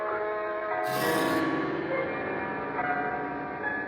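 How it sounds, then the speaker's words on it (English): A great clock on a darkened stairway chimes the hour, its bell tone ringing and decaying in long overlapping resonance, steady and fairly distant. "From the darkened stairway, the great clock chimes out the hour."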